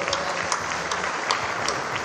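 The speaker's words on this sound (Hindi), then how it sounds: "उनके लिए हम जोरदार ताली" Brief burst of audience clapping at a Hindi poetry recital (kavi sammelan), an even wash of many hands with a few sharper claps standing out.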